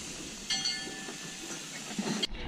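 On a boat's galley stove, a gas burner flame is turned up, giving a soft, steady hiss with a few faint clicks and clunks, ending abruptly.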